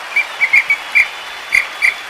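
Several short, sharp whistle blasts in an uneven rhythm, loud and close, with brief gaps between them.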